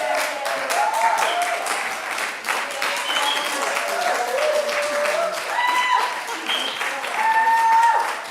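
Applause greets a speaker as she comes up at a community gathering, a steady clapping bed running the whole time while voices and what sounds like music or cheering ride over it.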